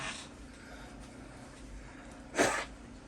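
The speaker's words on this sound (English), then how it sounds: "I'm gonna blow my nose." A person blows their nose in one short, loud honk near the end, breaking a quiet room hum.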